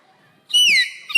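A boy imitates a chick with a single high, thin chirping whistle that slides downward, loud and close, in an otherwise quiet moment, with a faint thump at the end.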